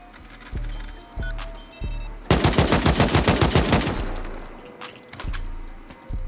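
An AK rifle in a video game fires a rapid burst of about a dozen sharp, loud shots at nail gun turrets, with single impacts and thuds before and after and metallic pings around it.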